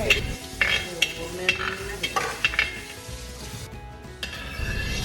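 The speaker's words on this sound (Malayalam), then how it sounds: "നെയ്യിലേക്ക് നമ്മൾ കുറച്ച് കാഷ്യൂ ഇട്ടിട്ടൊന്ന് റോസ്റ്റ് ചെയ്തെടുക്കുകയാണ്" Cashews roasting in ghee in a heavy pan, a close steady sizzle with repeated clinks and scrapes of a spoon stirring against the metal, no voices.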